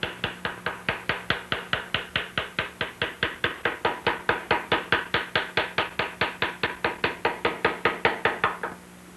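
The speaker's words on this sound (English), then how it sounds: "The majority of the engraving is done with the V-shaped engraver" A V-shaped engraver cuts narrow lines into a rifle, giving a steady run of sharp, evenly spaced taps, roughly four or five a second for about nine seconds, close and clear with no talking.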